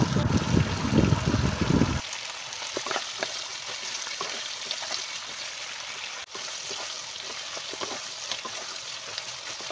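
Prawns, yardlong beans and katoya stems are stirred in a hot pan, giving a steady sizzling hiss with scattered scraping and clatter; a louder burst of frying noise opens before it settles into a quieter, even sizzle.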